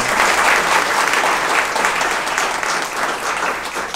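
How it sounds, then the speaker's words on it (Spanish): An audience at an award ceremony applauds for the director from Colombia, with dense, steady clapping that holds at full strength for several seconds and sits close and loud, with no talk over it. "le pida un aplauso para la directora de Colombia"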